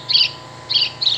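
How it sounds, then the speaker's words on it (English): An old-design Wild Republic Audubon plush house sparrow toy plays its recorded call: three short, bright chirping bursts spaced evenly over a faint steady hum. "old design house sparrow"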